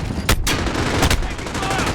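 Gunfire in Call of Duty: Modern Warfare crackles in two sharp, loud bursts of shots over dense, roaring battlefield noise.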